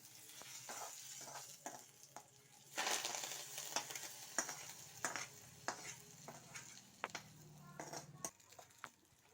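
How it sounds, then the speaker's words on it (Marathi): Hot oil tempering poured into mashed eggplant bharit, giving a brief crackling sizzle followed by a quiet series of light spatters and stirring taps, soft and close. "आता हे तेलाची फोडणी आपल्याला ह्या भरीच्यामध्ये टाकून घ्यायचं आहे"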